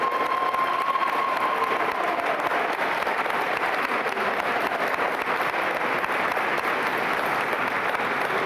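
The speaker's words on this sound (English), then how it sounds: "Let's give them a round of applause" A crowd at a scholarship award ceremony gives continuous applause for standing parents, guardians and mentors, a dense, fairly distant wash of clapping that holds steady throughout.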